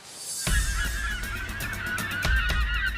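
Geese honk repeatedly close by on an island near a fishing net, loud nasal calls in an irregular series over steady outdoor background noise, with no talking.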